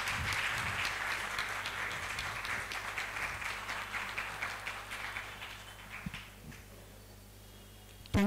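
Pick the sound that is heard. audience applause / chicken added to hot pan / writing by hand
audience applause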